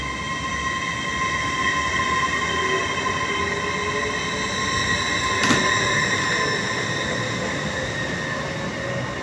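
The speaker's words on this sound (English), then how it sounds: "Now it's 1415 Transpennine Express service from Edinburgh Waverley to Manchester Airport, 802206." Transpennine Express train 802206 at Edinburgh Haymarket station, a loud, close, steady hum of the train with high tonal whine and wheel squeal, and a brief sharp metallic click midway.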